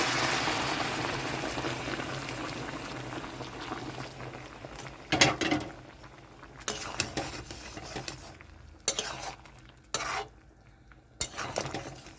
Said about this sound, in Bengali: আগের থেকে গরম জল করে রেখেছি, গরম জলটা এখন এখানে দিয়ে দিচ্ছি।